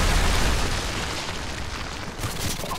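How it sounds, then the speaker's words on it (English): Predator missile blast in Call of Duty Modern Warfare 2, a loud booming explosion that opens heavily and rumbles on as a dense, noisy roar, thinning slightly toward the end with debris-like crackle. "Friendly Predator missile inbound"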